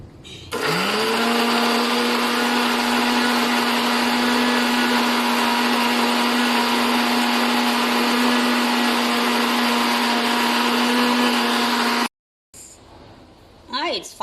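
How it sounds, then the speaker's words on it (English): Kitchen blender whirring steadily through rendang spice paste with about half a cup of water, a loud continuous motor drone that runs for about twelve seconds, then cuts off abruptly, leaving a short pause and faint handling noise. "So I put everything into the blender and I'm adding about half a cup of water, and then I'm going to blend this."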